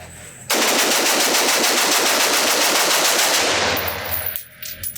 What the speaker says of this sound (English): of course, the fun and quick mag dump